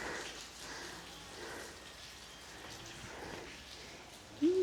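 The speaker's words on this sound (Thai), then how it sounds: "ฝนตกค่ะ" Steady rain falls on a rainy day at a Thai temple under construction, a soft continuous hiss with faint patter and no voices, ending in a brief louder tonal sound.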